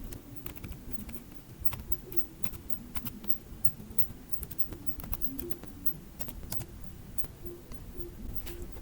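Quick, steady keystrokes on a computer keyboard while configuring networking in VirtualBox, a continuous patter of close, light clicks with no talking.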